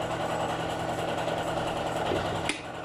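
A pneumatic tapping machine cuts threads into a cylindrical bolt through a slightly undersized 3/16 hole, straining the tool; a steady close mechanical whir and buzz runs throughout, ending in a brief sharp click near the end.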